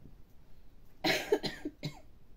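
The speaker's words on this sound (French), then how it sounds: "Je suis désolée, je fais que tousser." A woman coughs a few times in quick succession, a rough burst followed by two shorter hacks, fairly close and moderately loud against a quiet room.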